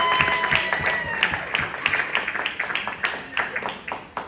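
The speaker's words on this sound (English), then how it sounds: "Give yourselves a round of applause." Audience applause at a Ugandan community talent show in Colorado, individual claps sharp and distinct in an uneven rhythm, fairly near, with faint background chatter.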